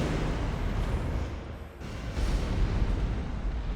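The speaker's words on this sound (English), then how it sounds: "it is gunpowder, so I do expect a bit of an explosion" A gunpowder explosion in Assassin's Creed: Revelations sounds as a sustained rumbling blast of broadband noise that briefly dips and then swells again, loud and continuous throughout, with no voices.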